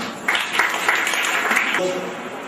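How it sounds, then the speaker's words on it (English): An audience claps at a school program event, a brief spell of moderate applause with a voice briefly audible alongside it. "Please can you clap for her?"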